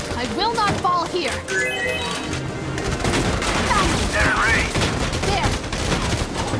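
Rapid bursts of gunfire from the tactical strategy game Valkyria Chronicles 4 crackle in dense volleys, with game characters' voices and chirpy effects mixed over the shooting.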